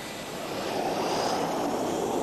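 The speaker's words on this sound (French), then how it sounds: "alignement décollage 4 avions." Four military jet aircraft line up on an airport runway for takeoff in 1980, their engines producing a steady, loud, broadband roar.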